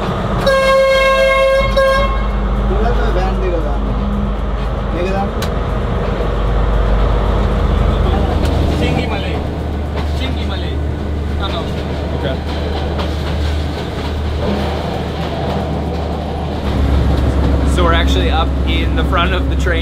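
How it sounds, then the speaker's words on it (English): A Sri Lankan train's horn blares in long harmonic blasts at the start, heard from the front cab, then the steady rumble of the moving train continues, with people talking over it. "we have an awesome view at the front of the train"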